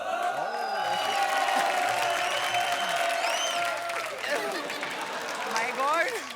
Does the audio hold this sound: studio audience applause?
yes